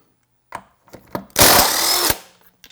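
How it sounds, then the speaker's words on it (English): A 22 mm socket works the lug nuts off a Jeep Wrangler JL Unlimited wheel: a few sharp metallic clicks, then a loud, close, sustained whir of an impact or power tool for under a second before it cuts out. "We'll pop these lugs off."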